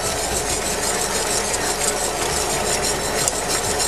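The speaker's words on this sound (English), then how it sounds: "We're just going to continue to whisk" Continuous whisking of a thickening sauce in a pan, a dense scraping, rubbing churn with steady rapid strokes close up, no voices over it.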